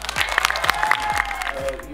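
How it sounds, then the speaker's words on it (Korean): Attendees at a design arts graduation exhibition clap together in a dense, steady burst of applause lasting a couple of seconds, with voices and a few cheers mixed in. "우리 모두를 위한 박수 한번 칠까?"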